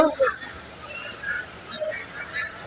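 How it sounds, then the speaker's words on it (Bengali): Goose honks ring out in a few short bursts at a market, with background voices and ambient noise continuing underneath. "কিসের জাত হাঁসটা কি হাঁস রাজহাঁস জাত হচ্ছে রাজহাঁস"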